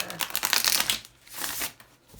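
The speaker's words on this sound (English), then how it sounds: "Let's do a couple more shuffles here." Quick crisp riffling of tarot cards being shuffled, a burst of flutters followed by a softer second pass, close up with no talking.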